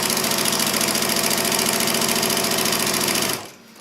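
A sewing machine runs fast and steadily, stitching fabric pieces right sides together along a quarter-inch seam at a 2.5 stitch length. The close, even whirring lasts over three seconds, then stops abruptly.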